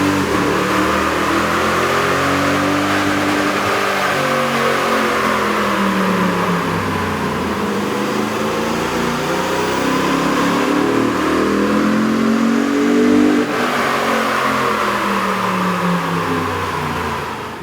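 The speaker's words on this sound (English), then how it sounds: "we ran the vehicle on the dyno to test the sound comparison versus the stock intake" A Toyota Tundra with a 4.6L engine and aftermarket air intake revs on a dyno, a loud, steady engine roar climbing and falling in pitch through sustained pulls, close up with no talking.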